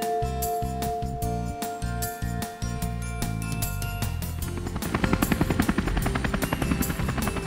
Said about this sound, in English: I know, that's a helicopter.